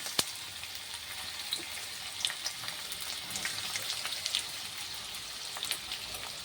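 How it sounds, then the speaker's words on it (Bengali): Onions fry in mustard oil, giving a continuous bright sizzle with scattered crackles and small spits throughout at a moderate, even level. "সর্ষের তেলে পেঁয়াজ দিচ্ছি"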